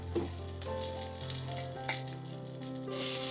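Hot oil in a kadai keeps up a soft, steady sizzle after the shrimp have been lifted out, with a few light clinks and stirring noises over the low frying hiss.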